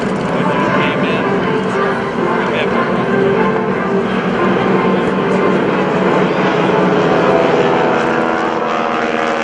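Propeller planes from the GEICO Skytypers team flying overhead as forward air controllers at a Rhode Island Air National Guard open house airshow, a steady broad engine drone lasting throughout with a voice talking over it.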